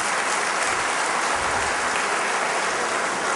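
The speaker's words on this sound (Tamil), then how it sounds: "ப்ளீஸ் கைதட்டுங்க" Dense, steady applause from a seated audience at a state wellness conference, the crowd clapping loudly and continuously with no voices over it.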